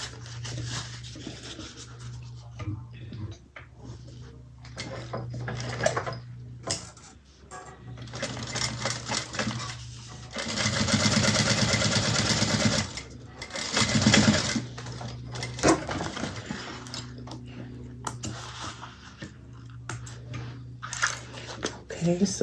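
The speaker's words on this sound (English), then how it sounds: "push the seam allowance down toward the bottom gusset, and we're going to top stitch" A sewing machine topstitching a seam down toward the bottom gusset of a Scottie Convertible Bag, in short intermittent bursts and one long steady run of whirring stitching, with someone talking between the bursts.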